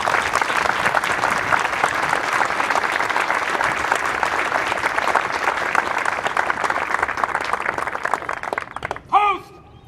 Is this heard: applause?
yes